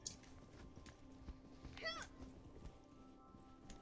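Milo, a pet cat, lets out one brief, quiet meow indoors, partly under soft voices and small thuds and footstep-like knocks.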